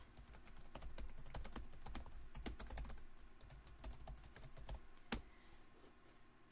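Notes typed on a computer keyboard in collection software, a quick steady run of soft close key clicks with one sharper keystroke near the end, faint and without talk.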